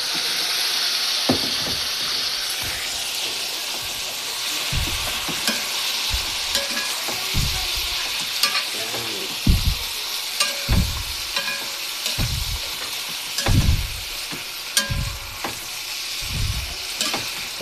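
Stingray sizzles in a pan with tomato as it is cooked into kinunot, a constant bright frying hiss broken by repeated scraping stirs of a utensil, close and loud.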